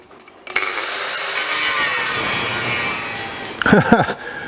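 Power saw biting through the sheet-metal cab of an old donor truck to free it from the chassis, a loud steady cutting roar lasting several seconds, then stopping with a few clanking, scraping knocks.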